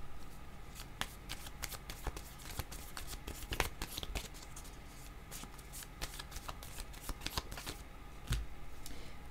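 Playing cards being shuffled, a steady crisp riffling with sharp flicks and snaps at close range, continuing quietly and unbroken throughout.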